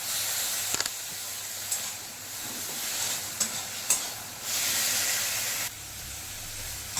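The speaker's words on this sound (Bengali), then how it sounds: "এবার দিয়ে দেবো টমেটো কেটে রেখেছি, সেই টমেটোগুলো। এবার এটা খুব ভালো করে ফ্রাই করে নিতে হবে।" Cut tomatoes fry in a pan under a constant close sizzle and hiss, broken by occasional sharp scrapes and taps as they are stirred, with no voices.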